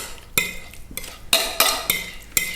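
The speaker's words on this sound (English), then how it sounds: "you want to put all your mix into the tin" Bread pudding mixture being scraped from a bowl into a baking tin, with a series of sharp utensil scrapes and knocks against metal, close and fairly loud, about six strokes in under three seconds.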